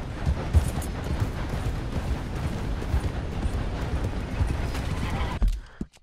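Horse hooves clip-clop steadily and close at a riding pace in Red Dead Redemption II, in a snowy setting, with a few heavier thuds and a brief louder knock near the end.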